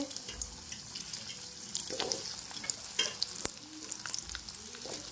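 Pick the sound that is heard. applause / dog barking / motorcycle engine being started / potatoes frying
potatoes frying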